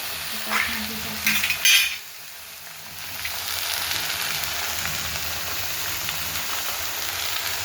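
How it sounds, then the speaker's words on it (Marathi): Spices, with fenugreek leaves in the wok, hit hot oil with a few crackling bursts and clatters, then settle into a steady loud sizzle and hiss. "मेथीची भाजी टाकली मी कढईत चला आता फोडणी देते"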